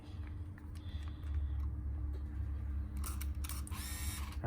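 Mechanical clicks and whirring from a Minolta Capios 25 film camera's shutter and lens cover cycling open and shut, over a low steady hum.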